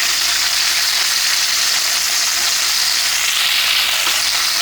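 Hilsa fish pieces fry in a pan with a loud, dense, unbroken sizzle that holds steady from start to finish with no talking.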